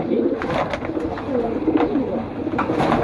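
Domestic pigeons from a collection coo repeatedly and close by, soft throaty rolling calls overlapping in a steady stream.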